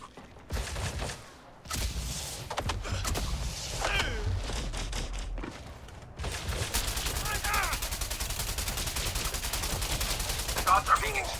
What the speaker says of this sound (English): Shots are being exchanged at Alpha